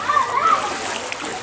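Water splashing and sloshing as people wade through a rain-flooded river in Congo during the rainy season, a steady close churning wash with voices talking over it.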